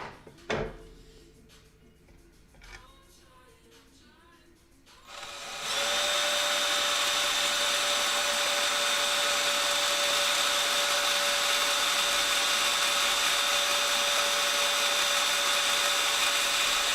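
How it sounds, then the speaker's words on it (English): A brief clatter and faint handling noises, then a loud drill starts up and runs continuously at a steady high whine, close by. "let's do some drilling."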